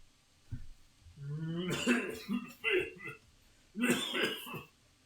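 A voice imitates a coughing cow: a deep, rough cough with a few hoarse bursts and short pauses, recorded up close at modest volume.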